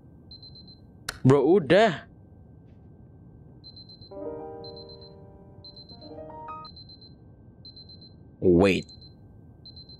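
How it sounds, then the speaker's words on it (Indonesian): Beeping alarm repeating in short even pings through the Superliminal video game, a faint steady series running under bursts of talk and a brief melodic chime. "Oh, alarm lagi, nyala lagi."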